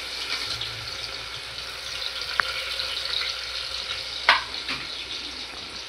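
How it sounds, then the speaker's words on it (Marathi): Onions fry in a pan with cumin and mustard seeds as a steady, even sizzling hiss, broken by a couple of sharp utensil taps. "कांदा कांदा मस्त फ्राय करून घेतील"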